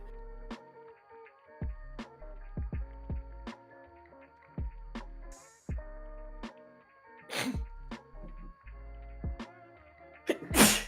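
A sharp sneeze bursts out near the end amid a quiet stretch of soft background music with a few other short, breathy vocal bursts scattered throughout.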